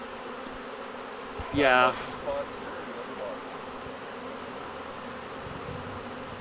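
A honey bee swarm in Red Bluff, California hums as a steady, droning buzz throughout, with a voice briefly speaking over it.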